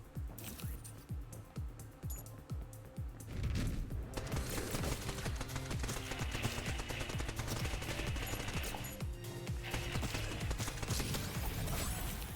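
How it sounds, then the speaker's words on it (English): Rapid bursts of projectile fire from the Alien Baby X pet in the roguelike shooter Neon Abyss, a dense stuttering volley layered with game music and effects, with a person talking over it. "Alien Baby X! He fires 2 heat-seeking bullets!"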